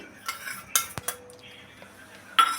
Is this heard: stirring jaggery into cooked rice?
yes